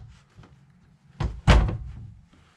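A wooden drawer slides out with a short rumble, then stops with a solid thunk inside a 2020 Keystone Cougar fifth wheel trailer; quiet room otherwise.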